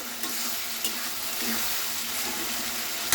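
Slit green chilies fry in hot oil, giving a dense, continuous hiss of sizzling with light stirring scrapes, close and steady with no talk.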